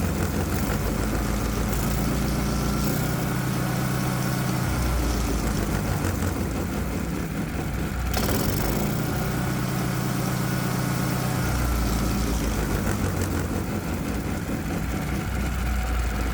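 A Predator 212 small engine fitted with simple fuel injection idles steadily under load, a loud, rough, continuous putter with a mechanical rattle and a brief dip in the middle, close by with no talking.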